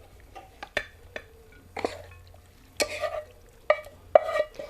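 Spaghetti in tuna sauce lifted from a pan into a bowl, a series of separate close scrapes, clinks and wet slaps spaced irregularly across the moment, with no voices.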